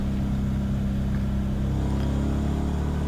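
An LS-swapped Nissan 350Z drives onto a race track under yellow flags, its engine holding a steady, droning hum heard close from inside the car with no change in pitch.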